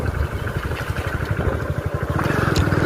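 A motorcycle engine putters with a fast, rhythmic thrum close by, rough and steady as the bike rides along.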